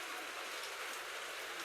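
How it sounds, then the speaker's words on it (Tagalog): Steady rain patters and drips continuously, a soft even wash of droplets with no voices. "yung tulo ng ulan."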